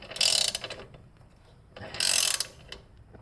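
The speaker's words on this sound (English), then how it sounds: "put a wrench on it, press it against the subframe and just start turning it" A wrench turning a threaded insert into a BMW E90 subframe gives two short bursts of close, grinding ratchet-like clicking separated by a pause, heard alone.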